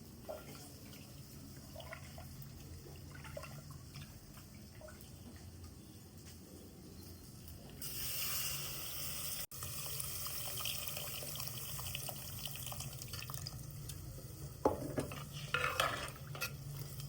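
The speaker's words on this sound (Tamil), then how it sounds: "இப்போ புளியை கரைச்சி விடணும்." Tamarind is squeezed and dissolved by hand in water in a bowl for kara kulambu, making soft, close sloshing and squishing sounds with occasional light clinks of the vessel.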